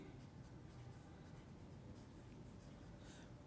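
Chalk or marker writing on a board during a chemistry lecture, a faint steady scratching and scraping that runs without pause through the whole short stretch, low in level, with no voice over it.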